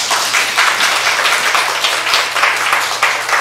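Applause from a church congregation at a Sunday service, dense clapping rising and falling slightly in loudness and carrying steadily from start to end.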